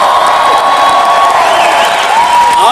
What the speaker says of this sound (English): let's hear it if you're gonna clap there